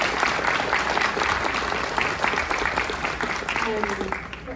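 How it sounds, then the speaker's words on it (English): Audience applause at a film screening and Q&A in Vancouver, a steady wash of clapping from a large crowd with a voice speaking briefly near the end. "I'd like to obviously give a big round of applause to Sarah McCusker for bravery"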